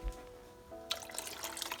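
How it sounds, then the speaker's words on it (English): A pot is filled with water from a tap for a double boiler, with a faint, close trickle of pouring water starting after a short quiet pause. "you want to fill a pot with water."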